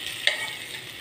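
Capsicum curry stirred in a steel pot on the stove, a quick scrape of the spoon over a soft steady sizzle, close and brief with no talk.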